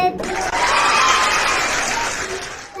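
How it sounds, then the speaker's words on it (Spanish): A church congregation claps and cheers during a lively worship service, a dense, steady wash of applause mixed with crowd voices that stays loud for nearly three seconds before tapering at the end. "Fíjate cómo aplauden"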